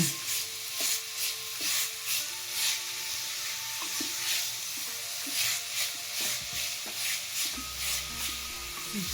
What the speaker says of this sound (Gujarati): પાંચક મિનિટ સુધી આવી રીતે આમ સાતળશું આમ સતત હલાવીને સાતળી એટલે આપણું ગાજર થોડુંક નરમ પડશે